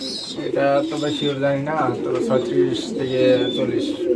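Fantail pigeons at a farm coo in repeated soft, throaty rolling calls, close by, with a voice talking over them.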